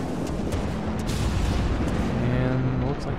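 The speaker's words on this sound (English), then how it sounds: "I heard gunfire" Naval guns boom in World of Warships with a Tier 3 Wakatake destroyer, a dense, rumbling barrage of low blasts and distant impacts under a steady roar of sea and engine noise.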